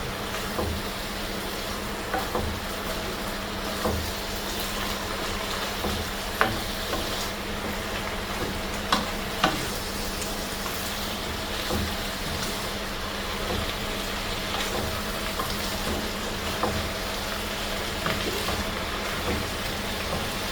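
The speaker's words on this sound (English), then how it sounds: "we're just going to stir this up" Chicken and vegetables being stir-fried in a pan give a steady, close sizzle for the whole stretch, with occasional sharp clicks and scrapes from stirring and no one talking.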